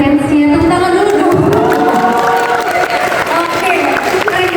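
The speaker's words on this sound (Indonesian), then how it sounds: "Tepuk tangan dulu." Crowd applause with cheering and children shouting at a campus event at UGJ Cirebon, loud and continuous, mixed with many voices and whoops throughout.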